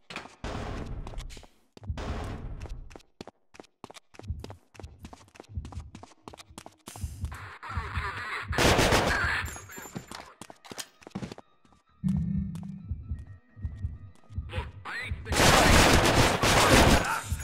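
Repeated gunshots from the video game Manhunt: sharp single shots and short bursts come in irregular clusters, some close and loud, with someone talking between them.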